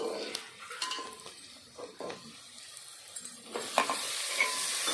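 Tomatoes go into a frying pan for a Telugu dried-fish, brinjal and tomato tamarind stew, with a soft sizzle, stirring scrapes and a few utensil clinks against the pan at close range, no voices.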